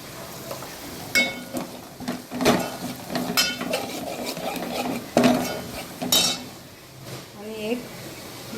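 A spoon scrapes and clinks in a pot as red chili powder is stirred into a curry, the taps and scrapes irregular and close, with a faint sizzle and a person talking throughout.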